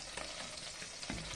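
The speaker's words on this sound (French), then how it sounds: "Ah oui, ça grésille." Spinach fries in a pan with a steady, dense sizzle and crackle, heard up close and alone, slightly quiet, with a few faint stirring scrapes.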